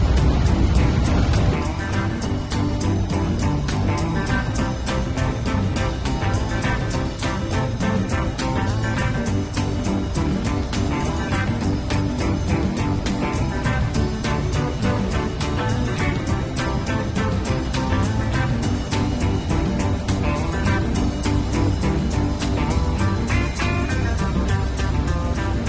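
A vintage Ford, either a 1928 Model A or a 1932 Ford, drives steadily down the road with a continuous engine drone and road and wind rumble, loud and unbroken throughout.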